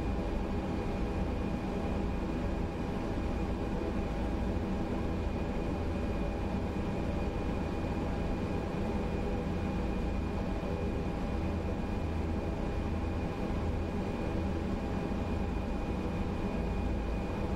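An ATR 72-600 turboprop taxis slowly in Microsoft Flight Simulator 2020, a steady engine drone with a constant high whine, even and unbroken for the whole stretch, without talk.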